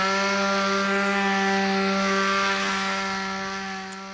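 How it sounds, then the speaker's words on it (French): An electric sander works over wooden planks with a steady, loud, close motor hum that holds constant and tapers off slightly at the end. "Donc tout d'abord je commence par poncer."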